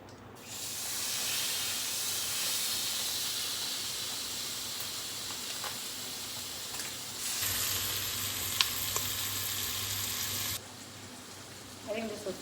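Butter sizzles in a pan as a steady bright hiss, which swells louder for a few seconds and then stops abruptly near the end, followed by a few faint clinks.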